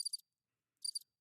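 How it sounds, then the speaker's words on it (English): Stock cricket chirping effect played from a Rodecaster podcast mixer, two short bursts of rapid high chirps separated by a clear pause, clean and isolated with no voices. "Crickets. There you go."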